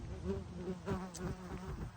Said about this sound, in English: Oh, there's a bee out here.